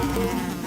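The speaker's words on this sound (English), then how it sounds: "Bee arrives with his friends." Cartoon bees buzz steadily and loudly in a dense, unbroken insect drone with no talking.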